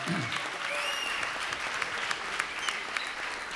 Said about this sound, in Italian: Fate applauso.